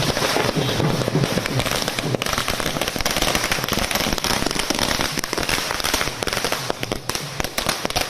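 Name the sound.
fireworks at celebration outside Congress headquarters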